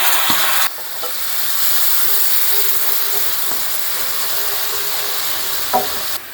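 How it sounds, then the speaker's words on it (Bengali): Whisked yogurt hits a hot pan of cauliflower korma with a sudden loud sizzle, then settles into a steady hiss of frying with scraping stirring strokes, close up and alone. "এবার এর মধ্যে আমি আগে থেকেই ফেটিয়ে রাখা দই দিয়ে দিচ্ছি।"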